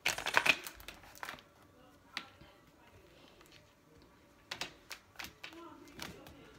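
Tarot and oracle cards are shuffled in a quick riffle at the start, then scattered soft taps and flicks of cards follow, fairly quiet and close.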